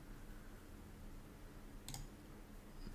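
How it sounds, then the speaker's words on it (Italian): A computer mouse gives a single faint right-click near the middle, with another very soft tick near the end, over steady low room hum with no talking. "Se faccio tasto destro installa."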